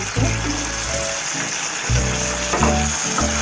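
Baby corn manchurian being stirred in a pan with green chilli, soy and tomato sauces, a steady sizzle broken by scraping spatula strokes in bursts, close and fairly loud, with no talking.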